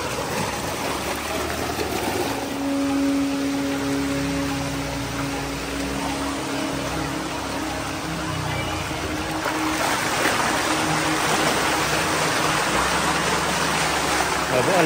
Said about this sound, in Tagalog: Grabe, ang lakas ng agos.